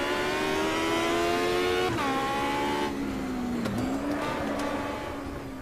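Small Aussie Racing Cars race at night around the Adelaide street circuit in the Automobilista sim, their engines droning loud and steady with a sharp downshift partway through and a brief gear-change dip near the end.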